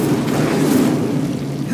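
A fiery Incendio spell blast in the Hogwarts Legacy game, a dense roaring whoosh of flame that fills the short moment steadily at close range, with no one speaking.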